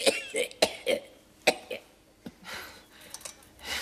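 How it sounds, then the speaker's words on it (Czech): Coughing from a person in a Czech television drama, a series of sharp, harsh coughs in quick bursts, close and clear, followed by softer throat sounds. "Vidím, že vás ten kašel ne a nepustit."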